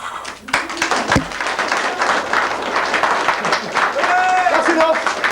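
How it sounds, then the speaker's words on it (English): An audience claps during a juggling act on a radio show, giving a steady, dense wash of applause throughout. Tones and brief voices sound within it. "when I start juggling, could you start clapping straight away, please?"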